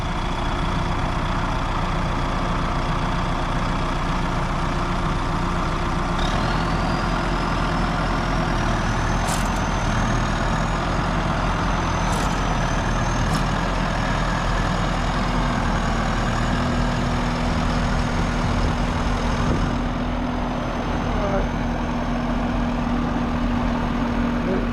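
A farm tractor engine runs steadily for the whole stretch, a loud, continuous low rumble with a faint high whine drifting through it and a few brief clanks.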